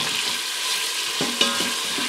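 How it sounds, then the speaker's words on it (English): Beef browning in an Instant Pot, a steady close hiss of sizzling with a few faint pops and clicks. "getting this meat browned"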